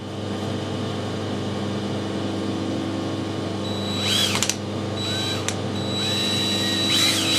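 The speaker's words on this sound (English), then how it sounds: "Just drilling this by eye" A hole is drilled in a lathe mandrel in a workshop: a steady mechanical hum runs throughout, broken by a few short, sharp squealing bursts toward the end.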